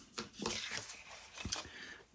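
Quiet, close snipping and crisp rustling of thin wafer paper being cut with scissors, a few irregular cuts in a row.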